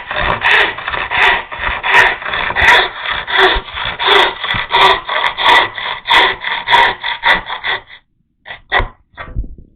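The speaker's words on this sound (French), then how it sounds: "Je vais prendre une scie à dos." A back saw cuts through wood in a workshop, making steady rhythmic rasping strokes up close. The strokes stop briefly, then a few final short strokes follow.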